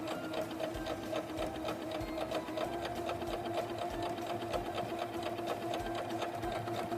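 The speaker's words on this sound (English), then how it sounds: "And now we'll just keep sewing our seam." Singer Legacy C440 computerized sewing machine stitching a seam, a steady close rapid mechanical chatter of needle strokes running without pause, alone with no talk.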